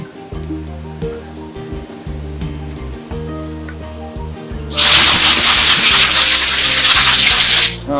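A steady rumble gives way to a loud, sharp blast of compressed air hissing for about three seconds, blowing dust off a stippled wooden recurve bow riser, before cutting off.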